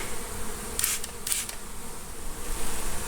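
A constant low buzzing of many bees nearby during a hive removal, a dense droning hum with a couple of brief brighter bursts.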